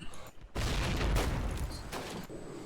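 Grenades go off in a Call of Duty: United Offensive match, loud booming blasts that roll into each other after a short lull and then fade out under distant noise.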